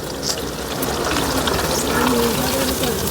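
Garlic and curry leaves fry in a pan of hot oil, giving a steady, close sizzle and crackle that holds evenly throughout, with faint voice in the background.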